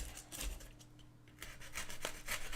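Rasping and rubbing as the edge of a diorama piece is beveled, two short bursts of scraping strokes, quiet and close, with no voices.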